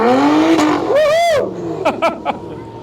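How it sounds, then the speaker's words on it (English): McLaren supercar spins donuts on tarmac, engine revving in swooping bursts with a sharp tire squeal in the middle and short revving blips afterward, close and loud with no talk. "Those are some very expensive McLaren donuts we are carving into the tarmac today."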